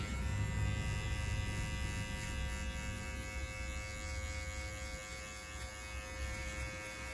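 Electric hair clippers buzzing continuously while cutting hair during a layered barbershop haircut with a number 4 guard, a steady close hum with no speech.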